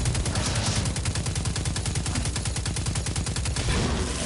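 Rapid enemy gunfire in the video game Destiny 2, a steady stream of evenly spaced shots rattling for about three seconds, loud and continuous with no talking.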